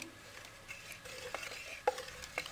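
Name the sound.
churning cream into butter with a wooden churner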